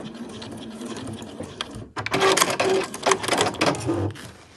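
A sewing machine stitches a backpack seam in close, loud, rapid bursts that start after a quiet, softer stretch, with short pauses between runs.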